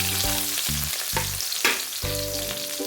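White onions hit a hot pan and fry with a constant close sizzle, broken by a few clunky stirring knocks and scrapes of a spatula against the pan.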